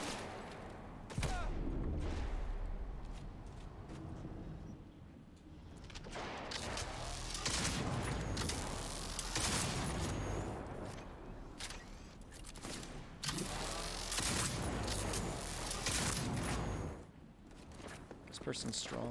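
Gunfire in Cyberpunk 2077 rattles out in rapid volleys and single sharp shots, loud and close, with short pauses between bursts and a person talking over the shooting.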